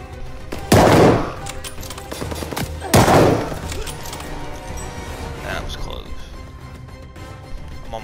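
Video game gunfire sounds in two loud bursts, then continues as a dense background of shots and clatter with a voice in the mix.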